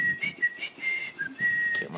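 Whistling along to a song: a short run of clear melodic notes with breathy gaps, heard close and fairly quiet, with no speech.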